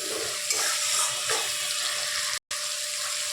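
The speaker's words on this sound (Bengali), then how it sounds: "এবার টমেটো আর পেঁয়াজটা হালকা করে ভেজে নেব" Tomato and onion frying lightly in a pan, a steady bright sizzling hiss with a couple of soft stirring swells and a momentary dropout.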